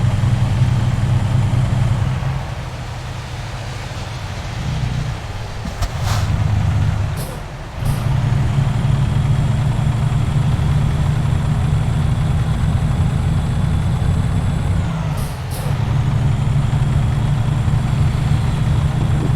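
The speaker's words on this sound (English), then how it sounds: "The Cummins engines, they sound a lot different to the other trucks with the Cummins engine" An International LoneStar truck with a Cummins engine in American Truck Simulator idles with a deep steady rumble, broken by several sharp hissing air-brake releases, close and alone with no voices.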